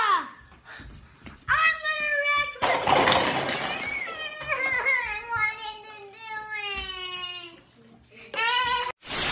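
A sheep bleats in several wavering, nasal calls at close range, mixed with other voices and a splashing burst partway through.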